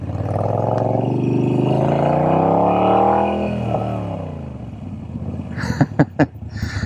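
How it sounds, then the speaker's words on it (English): A car sweeps past on a rural road in Iowa, a broad engine roar rising and fading over several seconds, followed by sharp clattering knocks. "there's a car coming"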